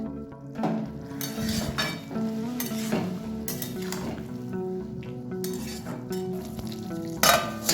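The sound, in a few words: stirring chopped green chilies into frying potato filling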